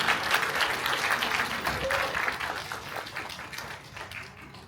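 An audience at a press conference for the film Cold War 1994 claps vigorously as guests come on stage, the dense applause gradually thinning and fading toward the end.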